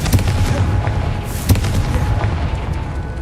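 A Confringo fire spell bursts in Hogwarts Legacy, a deep booming explosion at about one and a half seconds over a constant low rumbling background, with a smaller thud near the start.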